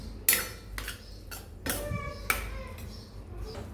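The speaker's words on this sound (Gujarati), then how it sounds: "ધાણા નાખીને આપણે આને બરાબર મિક્સ કરી લેશું" Fresh coriander being stirred into dry mung bean curry in a pan, giving a few sharp metal spoon clinks and scrapes against the pan in loose bursts, close and moderately loud, with no talking.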